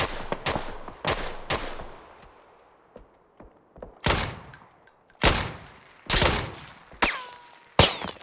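An AKM rifle in the PUBG video game fires in repeated loud bursts and single cracks, each followed by a short decaying tail, with brief quiet gaps between volleys.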